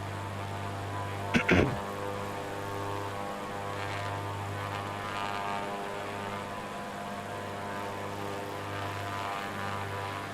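Steady propeller airplane engine drone, a low constant hum with a brief sharp clatter near the start, as a small plane comes in for an emergency landing with no flaps.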